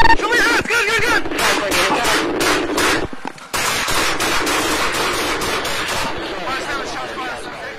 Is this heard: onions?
no